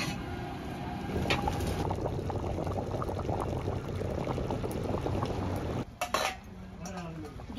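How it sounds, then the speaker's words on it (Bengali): Egg curry with taro and potato simmering in a pot, giving a dense steady bubbling that runs several seconds before a brief clatter near the end, close and unvoiced. "আরো 3 থেকে 4 মিনিট ফুটিয়ে নেব।"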